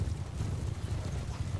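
Horse hooves in Mount & Blade 2 Bannerlord, a rapid, dense patter of many cavalry hoofbeats thudding together at a steady gallop, low and rumbling, fairly close, with no talk.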